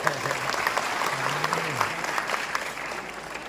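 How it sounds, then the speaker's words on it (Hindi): A crowd at a public meeting of an irregular employees' union federation breaks into loud, continuous applause, a steady wash of many hands, while a voice briefly speaks over it. "जोरदार तालियां"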